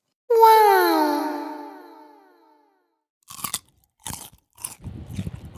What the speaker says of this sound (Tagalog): Ayan, tikman na natin. Unang kagat.